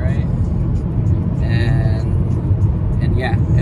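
A car cruising along a road gives a steady low cabin rumble with a faint passing whoosh, while people talk inside.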